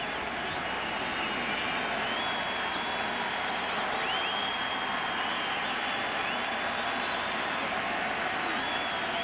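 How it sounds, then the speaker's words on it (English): A crowd at a 2011 ALCS baseball game between the Detroit Tigers and Texas Rangers sends up a steady roar that fills the stadium, with scattered whistles rising above it throughout. "This crowd is starting to come alive."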